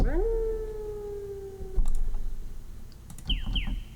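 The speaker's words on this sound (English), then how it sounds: "The wolf." Synthesized wolf howl from the King's Quest II game, a single sustained rising-then-level tone with harmonics lasting over a second, followed by clicking noises and a brief high chirp-like tone, all fairly clear.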